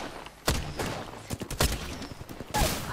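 Gunfire in the Apex Legends video game: several sharp, loud bursts of rapid shots spaced through the clip, with quieter pops and rattling between them.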